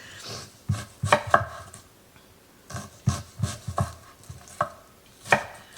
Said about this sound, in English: I'm just chopping these onions up, just giving them a rough chop.